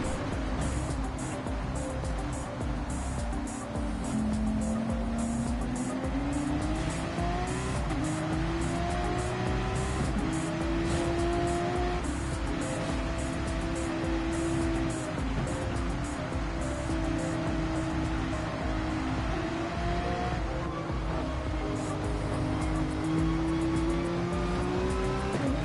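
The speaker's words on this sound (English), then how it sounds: "We're going to do a quick little ASMR on board with this Porsche" A Porsche race car heard from onboard in a racing video game, its engine revving up and down continuously through gear changes, with tire squeal mixed in, loud and steady with no talk.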